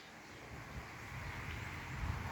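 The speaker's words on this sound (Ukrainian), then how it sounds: "Дурнуватий вітер дує." Steady low rumbling wind buffets the microphone, a continuous blustery roar outdoors with no talking.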